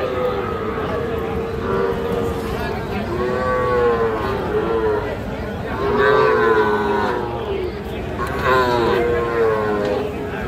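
Small bulls and heifer calves low repeatedly at a cattle market in Bangladesh, with several loud, drawn-out moos rising and falling over a busy crowd murmur.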